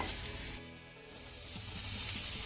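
Finely chopped onion sautéing in a pan sizzles with a steady hiss, dipping briefly before swelling back to a continuous close fry, without any talking.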